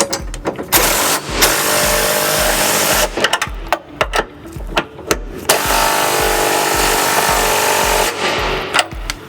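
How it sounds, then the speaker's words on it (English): Rapid bursts of a ratcheting socket wrench with a 19mm socket and extension snugging flange nuts on a trailer hitch under a 2005 Buick Rendezvous, loud and close, alternating with short pauses. "we need to go ahead and snug up these flange nuts with a 19mm socket and extension"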